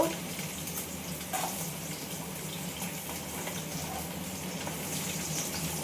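Katla fish frying in a pan over a lowered gas flame, a steady, moderately quiet hissing sizzle that stays even throughout with no clear voices.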